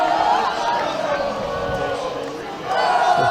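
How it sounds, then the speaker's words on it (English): A boys' high school basketball crowd roars in a Jeffersonville, Indiana gym before tip-off, a dense, steady wash of cheering and shouting with a commentator talking over it. "The crowd just behind us is getting absolutely rocking tonight."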